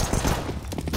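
Gunfire in the Counter-Strike map Overpass: a dense burst of loud, rapid in-game shots rattling across the full second, close and continuous, with no talk over it.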